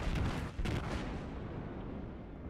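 Ship artillery from the battleship Tirpitz in World of Warships booms as a loud, deep blast with a rumbling tail that fades out slowly, with no talk.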